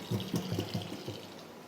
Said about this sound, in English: Let me wash my hands, otherwise I'm gonna throw away everything here.